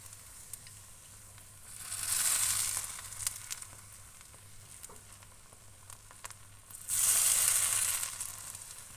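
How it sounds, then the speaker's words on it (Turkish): Heated oil is poured onto cooked lentil bulgur pilaf with two loud bursts of sizzling that swell and fade, separated by quieter crackling, close by with no voices. "pişen pilavıma kızdırdığım yağını döküyorum"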